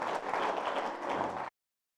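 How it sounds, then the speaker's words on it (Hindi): Audience applause for a girl at a Buddhist gathering in Raipur, a steady dense patter of many hands clapping at moderate distance that cuts off abruptly after about a second and a half, followed by silence. "चलो एक बार फिर से जोरदार तालियां बिटिया के लिए"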